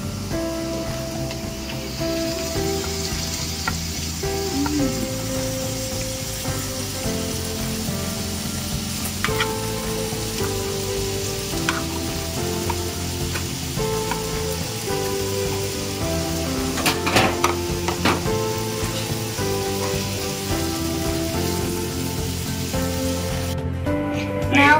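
Tomato going into a hot pan and frying with meat and vegetables, a steady sizzle under stirring and clinking utensils, with no talk.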